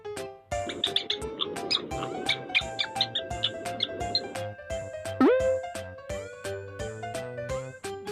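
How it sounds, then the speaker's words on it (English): A mouse squeaks in a series of short, high chirps over a bouncy backing melody in a children's farm-animal sound lesson. "Mouse."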